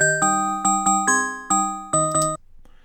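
A synthesized bell patch with delay and reverb, programmed in Logic Pro X, plays a short sequence of bright chiming notes in an even rhythm; each strike rings with sustained tones, then a faint reverb tail lingers after the last notes.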